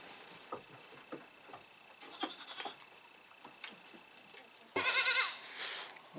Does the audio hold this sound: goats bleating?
yes